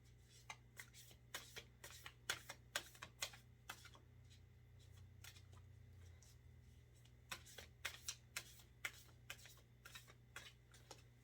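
Tarot oracle cards from a Starseed Oracle deck are shuffled in quick bursts of crisp riffling clicks, two clusters separated by a quieter pause, over a faint low background hum.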